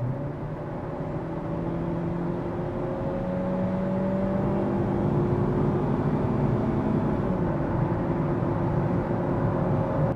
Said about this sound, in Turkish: 80-120 ara hızlanmamızı ölçelim.